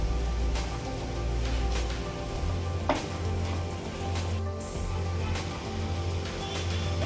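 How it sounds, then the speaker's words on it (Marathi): Grated paneer sautéing in a pan for Amritsari paneer bhurji gives a steady, even sizzle that runs throughout without pause, with a brief stirring scrape near the middle. "त्यामध्ये आपण हे किसून घेतलेलं पनीर टाकून घ्यायचं आणि हे परतून घ्यायचे"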